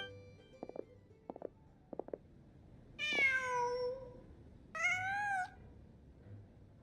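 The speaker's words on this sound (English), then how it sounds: "Just a cat." A cat in Genshin Impact gives two clear, drawn-out meows after a few short soft chirps, close and alone against quiet ambience.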